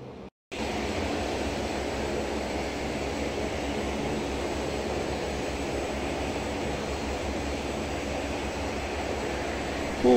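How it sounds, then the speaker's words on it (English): Engine noise from a Dash 7/Dash 8 turboprop airliner taxiing in a flight simulator game, a steady, loud, continuous drone that starts abruptly after a brief gap and holds evenly throughout. "we're going to taxi out now"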